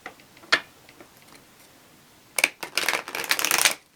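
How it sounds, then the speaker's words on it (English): Tarot cards being shuffled in a dense, papery riffle lasting just over a second, close and fairly loud, after a single soft tap and near-quiet handling. "I'm going to shuffle one more time."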